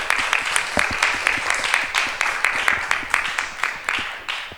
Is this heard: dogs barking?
no